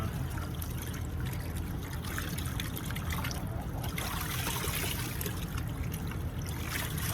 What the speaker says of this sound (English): slosh this around a little bit. Get that ashes get them mixed up a little bit.